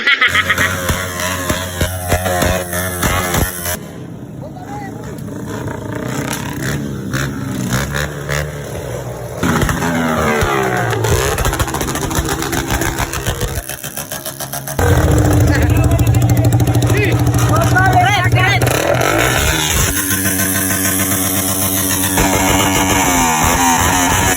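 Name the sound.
motorcycles revving engines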